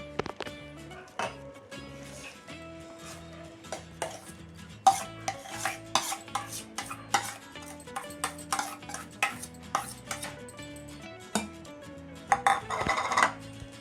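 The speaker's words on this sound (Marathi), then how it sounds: "ही आपल्याला आता भिजलेल्या रव्यामध्ये मिक्स करायची आहे." Ground dal being stirred into soaked semolina (rava) batter for rava dosa, with repeated scraping and clinking of a spoon against a metal bowl in an uneven rhythm, close and moderately loud, with a steady background tone.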